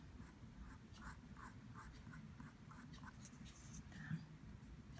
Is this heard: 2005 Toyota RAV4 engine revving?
no